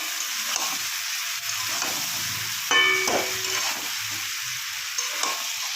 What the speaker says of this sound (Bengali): লঙ্কা গুঁড়ো দেওয়ার পর বেশি বেশ খানিক্ষণ ধরে ভাজতে হবে